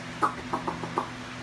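A voice mimics an American alligator call with four short, guttural croaks spaced unevenly over about a second, fairly quiet and alone, at a Florida gator park.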